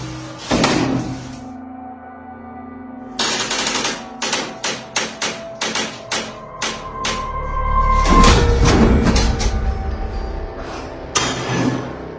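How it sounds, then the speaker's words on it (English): In a horror film scene, a door with a missing doorknob is forced until it bursts open: a rapid series of sharp wooden bangs and knocks, then a heavier crashing rumble, loud and close, with no voices. "soon it bursts the door open"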